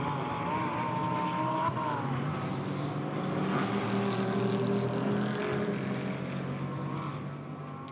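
GT4 race cars at the Nürburgring during a European series race, several engines roaring together in a sustained, dense drone with shifting pitch as they drop downhill, loud and steady before easing slightly at the end.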